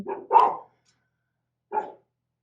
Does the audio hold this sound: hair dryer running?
no